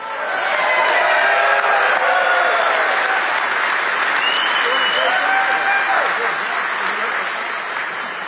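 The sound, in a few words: rally crowd applauding at Mack Trucks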